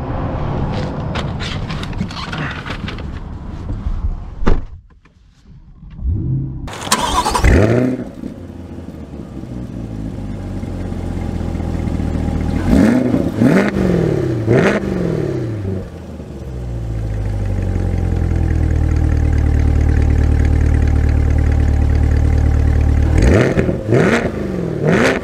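A 2023 Chevy Corvette Stingray starts up with a sharp bark and settles into a deep idle, then revs and pulls away, engine droning loud and close with repeated gear-change swells as it accelerates.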